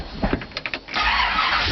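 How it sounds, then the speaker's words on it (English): A 1967 El Camino with a ZZ4 engine is cranked over cold, a short burst of starter whirring and clunks followed by a steady mechanical drone, close by. "I always like to turn it over and get that oil pumped and primed in the motor."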